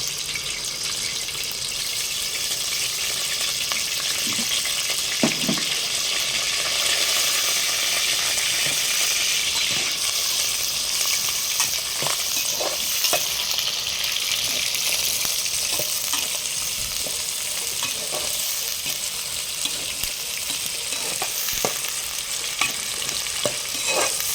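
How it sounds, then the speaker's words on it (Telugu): Onions and green chillies fry in hot oil with a steady, close sizzle, broken by occasional clinks and scrapes of stirring, continuing without any talk. "ఇంకా నూనె మాత్రం వేడైంది. పచ్చిమిర్చి ఉల్లిగడ్డ వేసుకుంటాను."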